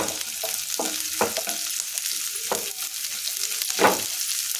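Green chillies sizzle and fry in a hot pan for a vegetable chapati noodle dish, a steady crackling hiss with sharper spits and stirring scrapes scattered throughout, close and moderately loud, with no talking.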